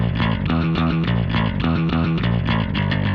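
Two layered electric guitar parts, one high and one low, play together raw and unprocessed in a rhythmic rock pattern, a dense full-band-like wall of strummed chords that stays loud and steady with no voices.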